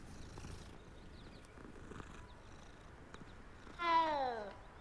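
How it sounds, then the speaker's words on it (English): Cat purring and mewing in the Hogwarts Legacy video game, a soft steady purr under faint background ambience, then a short, clearer meow near the end. "It's a cat."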